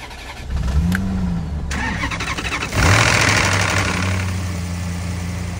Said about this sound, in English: my Quattroporte makes a rather nasty rattle when starting the engine